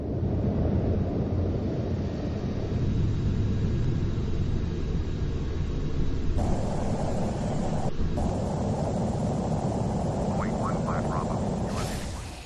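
An aircraft flying in Microsoft Flight Simulator, a steady broad engine and wind rumble that holds at an even, loud level throughout, with a brief shift in tone partway and a few faint higher tones near the end.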